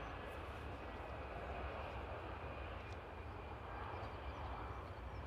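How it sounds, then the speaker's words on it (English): Air France airliner inbound to land at Paris Charles de Gaulle, arriving from Marseille on a sunny day: a steady, distant broadband engine roar that holds evenly throughout with no clear rise or fade. "Air France flight 7347 coming in from Marseille"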